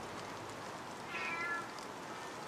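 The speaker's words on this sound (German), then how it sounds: "Eine Katze." A single cat meows once, faint and indoors, with a short drawn-out call in the middle against a quiet room hiss and no talking.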